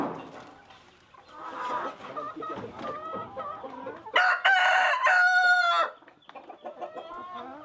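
Chickens clucking and calling on a small family farm, then a loud nearby rooster crow of about two seconds rising over the flock before the clucking resumes.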